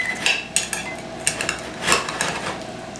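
Cutlery scrapes and clinks against a dish while a piece of hash brown breakfast casserole with crispy cheese on the bottom is cut, giving several sharp, close metallic taps and scrapes spread irregularly.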